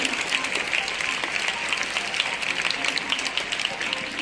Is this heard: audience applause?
yes